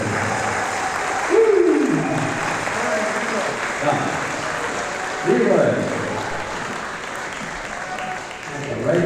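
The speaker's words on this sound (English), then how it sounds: "nice round of applause for our veterans" A round of applause for veterans at a live outdoor event, steady clapping from a crowd with two loud whoops rising above it and a voice calling out over the noise.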